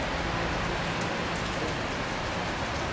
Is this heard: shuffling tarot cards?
no